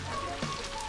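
Water dripping and streaming from canyon walls in Jalapão makes a dense, steady rain-like patter, close and continuous for a brief moment.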